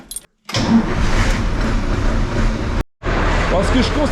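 A Ural 4320 6x6 Russian expedition truck engine starts up after a short pause, then a brief cutout and a second start, settling into a loud, close, rough idle with a voice talking over it.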